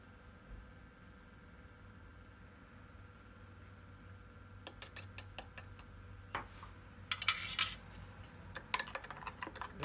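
A spoon slowly stirs a pudding mixture in a pot, giving scattered light clinks and scrapes against the metal that thicken in the second half, after a quiet stretch of low background hum.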